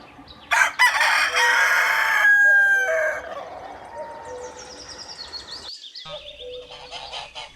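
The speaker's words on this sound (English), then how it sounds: "cock," A farm rooster crows loudly and close by, one long drawn-out cock-a-doodle-doo followed by softer clucking and bird calls in the background.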